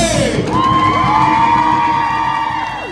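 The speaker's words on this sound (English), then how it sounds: "Everybody scream for Alize!" A crowd of family and friends at a live event screams and cheers for a performer named Alize. The loud, sustained roar is full of high whoops and children's shrieks, close and dense throughout.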